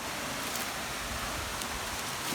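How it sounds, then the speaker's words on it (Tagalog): Cansuso Falls waterfall roaring in a steady, even wash of broadband noise, close and continuous with no talk. "Ito pala, tinatawag nilang Kansusu Falls."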